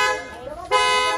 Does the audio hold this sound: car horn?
yes